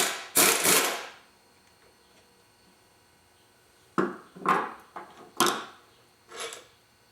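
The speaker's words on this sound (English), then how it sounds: "And then the small butterfly ratchet to unscrew them." Sharp metallic ratcheting and clacking bursts from a breaker bar and small butterfly ratchet loosening the head bolts on a Lola T492 race engine, one quick cluster, a pause, then several more spaced clicks, close and fairly loud.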